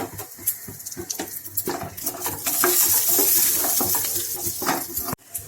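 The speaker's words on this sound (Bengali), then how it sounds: "ঘিয়ের উপরে কেটে রাখা আমন্ড বাদাম আর কাজু বাদাম কুচানোগুলো একটু ভেজে নেব" Chopped almonds and cashews frying in ghee in a kadai: a steady close sizzle with a brighter hiss swelling in the middle, and scattered clinks and scrapes of a spoon stirring against the pan.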